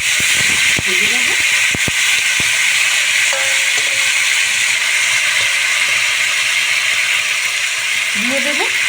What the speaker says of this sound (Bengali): টমেটো আর আলুটা আমার ভাজা হয়ে এসছে। এর মধ্যে দিয়ে দেবো আমি মটরশুঁটি।